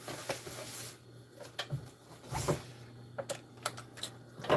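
A sewing machine stitches in short irregular bursts of rapid mechanical chatter between pauses, with a steady low hum underneath while making custom storage for a truck; the bobbin is running out of thread.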